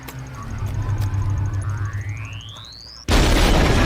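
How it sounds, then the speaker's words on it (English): Explosion in a Star Wars: The Bad Batch episode, preceded by a rising whistle over a low rumble, then a sudden loud, broad blast that stays heavy to the end. "Good explosion."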